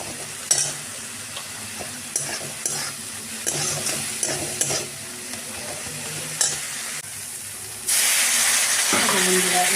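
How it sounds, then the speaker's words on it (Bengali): Onion fries with a paste of green chilli, ginger and garlic, sizzling steadily up close while a spoon scrapes and stirs in bursts, then the hiss surges louder near the end. "পেঁয়াজটা ভাজা হয়ে গেছে, এবার ওই পেস্টটা এর মধ্যে দিয়ে দিলাম। একটু ভাজা ভাজা করে নিই।"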